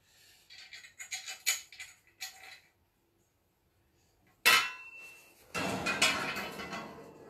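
Metal screws and nuts being handled and fitted while assembling a rat cage, sparse light clinks and clicks, then a sharp clatter and a longer jangling rustle of small metal parts, close and alone.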